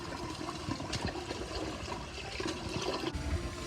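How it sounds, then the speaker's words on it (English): Water pours and sloshes over rice being rinsed in a kitchen for Jamaican rice and red peas, a close, continuous splashing and draining with small gurgles and no talk. "you gotta wash the rice until the water runs clear"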